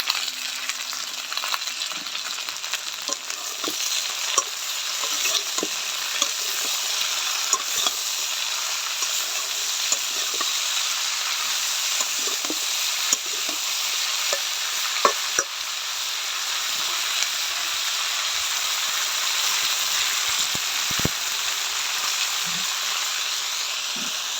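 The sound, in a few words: vegetables frying and being stirred in pan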